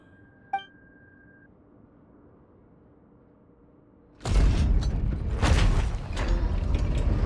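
Sluice gate mechanism in Genshin Impact: a single metallic clink, a quiet pause, then a loud sustained grinding, rumbling rush as the gate opens, continuing to the end.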